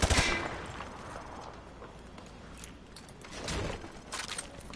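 Gunfire from the Call of Duty Modern Warfare 2 campaign, shots fired through light cover, a burst of loud shots at the start and further bursts later, heard at moderate distance.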